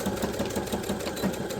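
A sewing machine stitching fabric for a pen holder, a steady quick mechanical whirring with a regular needle rhythm, close and fairly quiet.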